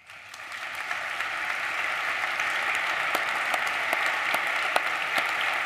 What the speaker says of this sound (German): Der Applaus gibt Ihnen recht